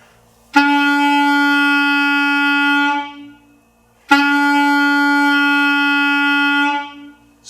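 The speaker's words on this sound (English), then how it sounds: "So you're going to blow through the clarinet and make a sound." A clarinet sounds a sustained E twice, each tone steady and clear for about two and a half seconds with a short gap between, close and alone with no talking.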